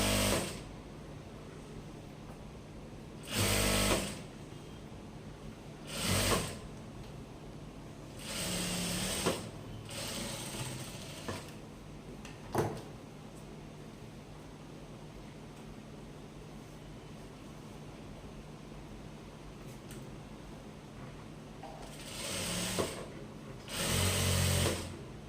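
A sewing machine stitches a blouse in short bursts of whirring, several separate runs of a few seconds each, spread over a long, quiet stretch with low background noise.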